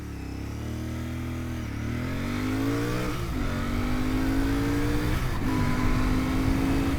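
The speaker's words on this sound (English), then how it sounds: "Got to get all the way up into third gear to get it up to 60 mile an hour" A 2025 Royal Enfield Bear 650 motorcycle accelerates hard through the gears, its engine note rising steadily, dipping briefly at each of two shifts, then climbing again, loud and close with wind noise.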